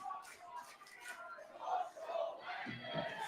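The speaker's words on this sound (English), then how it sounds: "Listen to this crowd." Crowd at a PWA Australia pro wrestling event, a Last Wrestler Standing match, chants and shouts in rising and falling waves, heard at a distance and somewhat muffled, with no clear individual voices.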